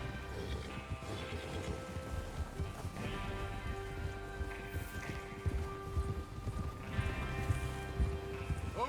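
Horses ridden in the Red Dead Redemption 2 video game, with hooves clip-clopping steadily under a dense bed of music and ambient game sound, fairly soft and continuous throughout.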